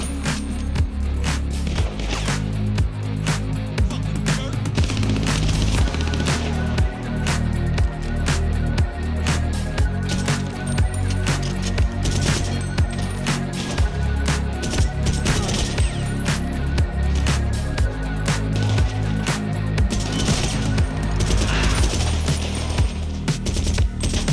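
Rapid gunfire in GTA Online, dense bursts of sharp shots and clattering impacts repeating throughout, loud and continuous with a low hum beneath.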